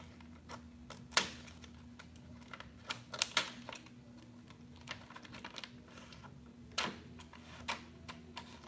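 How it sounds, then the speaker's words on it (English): Scissors snip close by in a quiet room, several sharp separate cuts spaced irregularly, with a couple of louder snips standing out and no voices. "I had to opt for some scissors"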